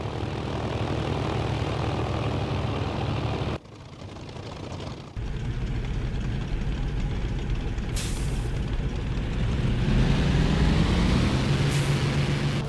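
A Typhoon fighter plane's engine drones continuously while taxiing at Manston airfield, a loud steady rumble with a brief drop in tone and a slowly rising pitch toward the end.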